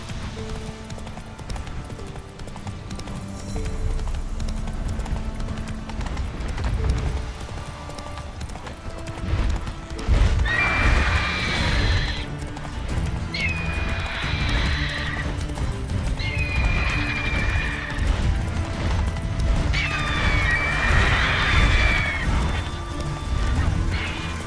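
A horse galloping and neighing in the video game The Witcher 3, with steady rhythmic hoofbeats throughout and several loud whinnies in the second half, close and prominent.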